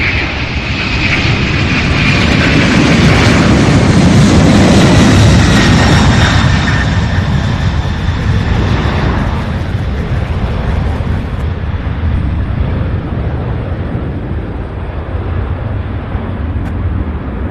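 A heavy jet departs runway 35 left at Louisville airport and climbs steeply, its loud broadband engine roar swelling to a peak and then slowly fading into the distance over about seventeen seconds, with no voices.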